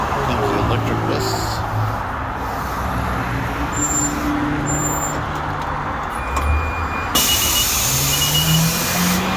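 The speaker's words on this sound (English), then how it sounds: "Comes the electric bus." An electric bus pulls up at a stop, its low hum and rolling road noise blending with loud surrounding traffic, while people talk nearby.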